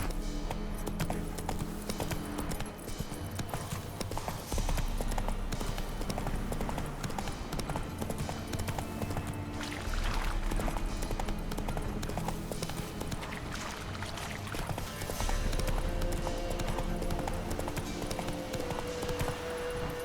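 A horse gallops in Witcher 3: Wild Hunt, with steady, loud clip-clop hoofbeats running continuously over a dense game soundtrack and ambience.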